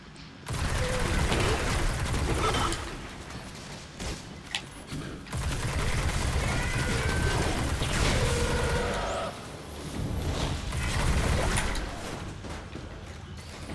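A new exotic gun in Destiny fires in long, dense volleys of rapid shots that come in loud bursts separated by short pauses, with busy game effects in the background.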